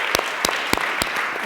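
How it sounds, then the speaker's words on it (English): Applause from an audience at a speaking event, sustained dense clapping with a few sharp louder claps standing out, filling the whole moment close and steady. "Let's hear a big round of applause."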